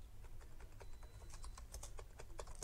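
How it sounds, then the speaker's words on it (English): Steady, quiet patter of keystrokes on a computer keyboard, fast and even clicks running the whole way through with no voices. "Just click on it and I'm going to now type in there what I want it to be."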